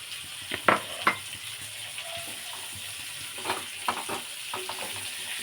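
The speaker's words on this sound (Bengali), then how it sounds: "তাই শিমটা দিয়ে একটু ভেজে নেব" Flat beans fry in a pan with a soft continuous sizzle, broken by a few sharp clinks and scrapes of stirring close by.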